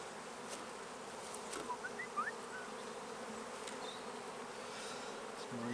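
Honey bees hum steadily inside an open hive during a queen-rearing colony check, with a dense, close, continuous buzz and a few individual bees droning past.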